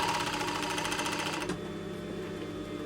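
A sewing machine stitching reusable makeup wipes runs at a fast, steady mechanical whir close by, then slows to a lower, rougher hum partway through.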